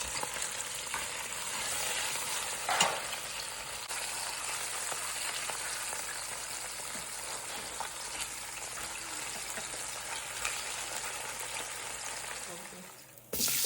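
Oxtails browning in a hot pan give a steady, close sizzle that fills nearly fourteen seconds at an even level, with one brief louder crackle near the start and a sudden drop at the very end.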